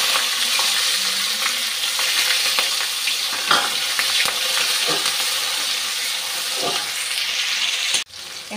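Onion and green chilli frying in a pan with a steady, dense sizzle throughout, broken by occasional stirring scrapes and clinks, then a sudden dip near the end.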